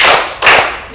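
Two firm hand claps keep time with a children's Bible song sung in Tamil, loud and close, a brief pair of sharp strikes with no voices over them.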